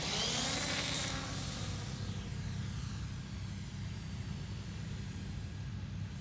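A twin-motor Ultra Stick model airplane's buzzing motors, loud at first then fading steadily as it takes off and climbs away into the distance.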